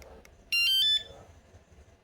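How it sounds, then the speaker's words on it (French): A short, piercing electronic alarm tone from a CUBE Reaction hybrid bicycle's alarm system blares for about half a second, then stops, leaving faint background noise and a brief click at the end. "Et le système alarme"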